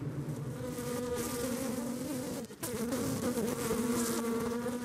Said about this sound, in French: Les abeilles s'agitent